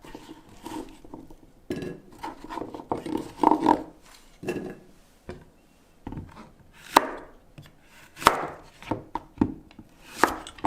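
A knife chops potato and zucchini for a stew on a cutting board. Brisk bursts of firm thuds come close and distinct, separated by short pauses, with occasional light clinks of utensils.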